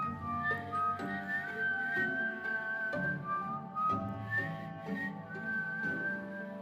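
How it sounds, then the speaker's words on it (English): Someone whistles a clear, wandering melody, close and steady, accompanied by soft low tones underneath. "she heard whistling."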